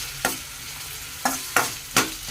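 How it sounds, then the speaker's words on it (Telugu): Onions frying in hot peanut oil in a pan on the stove, heard as four sharp stirring scrapes and sizzling bursts spaced unevenly over a low steady background, close and fairly quiet. "స్టవ్ అంటించుకుని ఆయిల్ పెట్టుకుని ఆనియన్స్ వేసుకున్నామండి"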